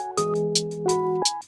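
A boom bap beat programmed on an OP-Z synthesizer plays close and clear. Short hi-hat ticks sit over sustained bass and tonal notes that change pitch in a steady rhythm across a short loop.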